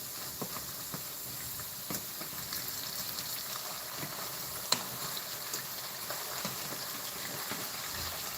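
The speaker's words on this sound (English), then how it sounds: "when you're frying fries at home, you do want to start off on high and then turn it down a bit." Fries fry in hot oil in a home kitchen on high heat, giving a steady sizzling hiss with scattered crackles and pops and no talk.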